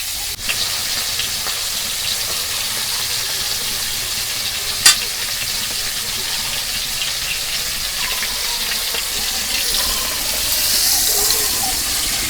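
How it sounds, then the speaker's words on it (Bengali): Pieces of silver carp sizzle loudly in a pan of hot oil, a steady hissing fry with occasional scraping stirs and a sharp clack midway, growing slightly louder toward the end; no talking. "এক খোলা মাছ ভাজা নিলাম, আর এক খোলা ভাজা নেব"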